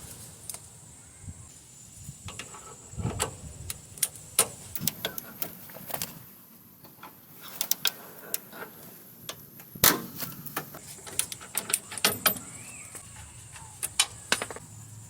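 A wrench clicks and taps while loosening a 19mm nut on the rusted rear control arm of a Nissan Armada, with sharp scattered metallic ticks and knocks in a quiet garage and little or no talk.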